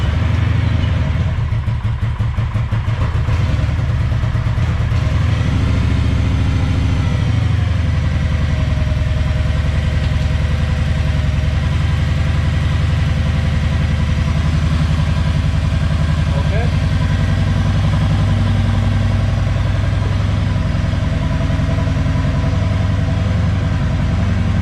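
A 2009 Kawasaki Vulcan 1700 Classic motorcycle engine idling close by, a loud, steady low rumble that settles after starting and holds evenly throughout.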